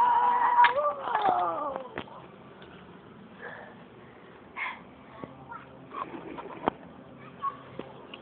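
Pigeons coo in low, rounded bursts near the start, then fainter calls and soft rustles come and go over a quiet outdoor background.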